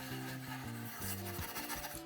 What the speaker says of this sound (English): what I'm gonna do next is just rubbing it with this stainless steel loofah